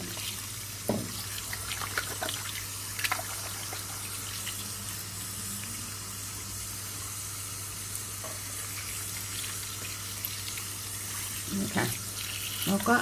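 A kitchen tap runs steadily into a sink while dirt-caked ginger and other roots are rinsed by hand, a constant moderate wash of water with occasional splashes and clatters.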